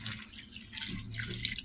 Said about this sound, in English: We're going to go ahead and add the water